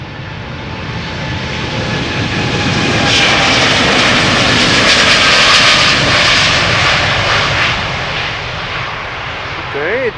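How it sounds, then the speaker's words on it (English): An Air Canada Boeing 787 Dreamliner takes off from the runway threshold at Amsterdam Schiphol Airport, bound for Montreal: a loud, close jet roar swells to a peak midway and stays sustained and powerful. "Next up, Air Canada flight 901 going to Montreal. 7879 Dreamliner."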